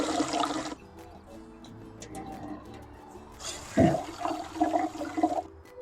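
Mung beans are washed in water: close splashing and sloshing in bursts, one burst at the start and a louder, busier stretch near the end, with a quieter gap between.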